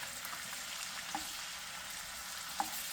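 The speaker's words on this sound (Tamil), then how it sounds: "It's just a quick fry on both sides." Fish frying in a pan at medium heat for a fish biryani, a steady soft sizzle with faint crackle throughout and a couple of brief sharper ticks, no one speaking.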